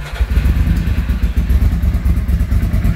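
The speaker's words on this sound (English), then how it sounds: "We're going to start the bike, and hopefully it'll run first because it's a little fussy" An old Ducati Paso motorcycle engine runs loud and close, a steady throbbing clatter with uneven pulses and no voices over it.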